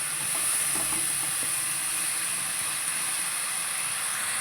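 Onion and tomato paste frying in a pan, a steady loud sizzling hiss that carries on unbroken, with a few faint clinks early on and no talk.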